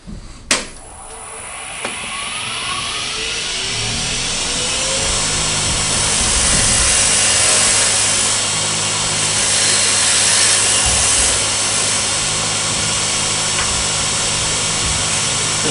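A wood lathe spins a wooden cylinder while a tenon is cut into it, a steady whirring hum with a rough, scraping tool-on-wood rasp that builds after a sharp knock at the start and holds close and loud.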